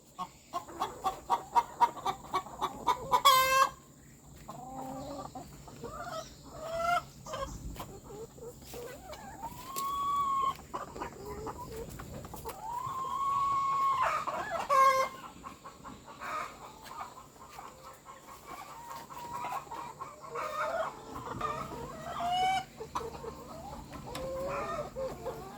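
Laying hens in a semi-free-range coop cluck and murmur in scattered calls near the microphone, with occasional louder squawks and a quiet background.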